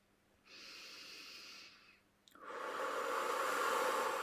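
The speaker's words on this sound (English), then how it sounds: "I feel like we need to take a few deep breaths here." A deep breath is drawn in slowly, then after a brief pause a long, strong, low exhale follows, close and steady with no talking.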